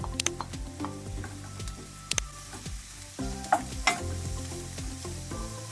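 Onions and mushrooms frying in oil in a pan, with constant close sizzling broken by scraping stir strokes and a few sharp clicks of a utensil against the pan.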